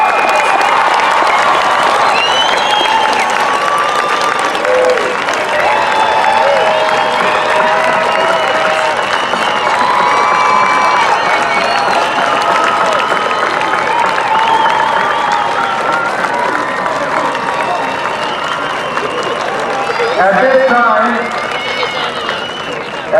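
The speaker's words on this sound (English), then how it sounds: "Let's have a round of applause for the class of" A large commencement crowd claps and cheers steadily for the graduating class of 2018, a sustained roar of applause with whoops and shouts that stays loud throughout before easing slightly near the end.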